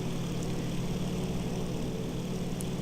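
P-47 Thunderbolt propeller fighter plane, a continuous droning engine hum with a steady low throb, moderately loud and unbroken, without talk.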